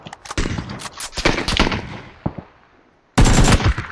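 Gunfire erupts in the video game PUBG, including an AWM rifle, with rapid sharp cracks in quick bursts, a lull of near silence, then a loud renewed volley close by.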